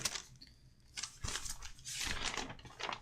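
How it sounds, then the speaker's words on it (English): Notebook pages flipped by hand, heard as a few brisk, rustling bursts of paper shuffling at close range between quieter gaps. "that's me flipping through my notebook to find the password"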